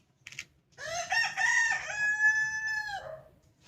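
A rooster crows once, loud and close, in a long strained call rising then holding before cutting off, with a brief squawk just before and a quiet garden around it.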